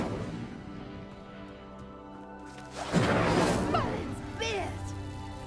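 The Incendio fire spell bursting into flame on a pyre in Hogwarts Legacy, a sudden loud whooshing flare with crackling and swishing flourishes that ease into a sustained burn over a steady music bed.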